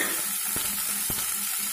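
Onion pieces fry in hot tempering oil with curry leaves and green chillies for a cucumber curry, a steady close sizzle broken by two soft stirring knocks, with no talk.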